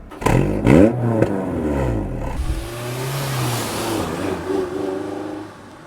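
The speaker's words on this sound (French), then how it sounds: "maintenant il faut aller déclencher le VTEC." A Honda S2000 Phase 2 engine revs hard through VTEC engagement, with rising, shifting tones, a brief drop, then a sustained high-pitched wail close and loud, no talk over it.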